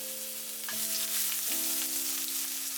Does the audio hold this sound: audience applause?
no